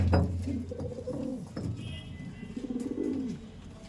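Andra pigeons, a male and female pair, coo close by in deep, throaty, repeated rolling calls, with soft wingbeat rustles between the calls and no talking.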